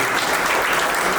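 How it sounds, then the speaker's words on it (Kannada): Warm audience applause welcoming Pradeep at a Kannada film poster launch event, a dense, steady wash of many hands clapping that fills the whole short moment without pause. "ನಿಮ್ಮೆಲ್ಲರ ಪ್ರೀತಿಯ ಚಪ್ಪಾಳೆಯೊಂದಿಗೆ ನಮ್ಮ ಪ್ರದೀಪ್ ಅವರ ಹೃದಯಪೂರ್ವಕವಾಗಿ"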